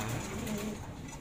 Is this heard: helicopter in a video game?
no